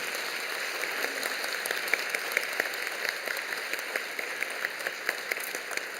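A church congregation claps at a Sunday evening service during an appointment ceremony. The applause is steady and moderately distant, with many hands patting in a soft, rain-like texture and a few sharper claps standing out.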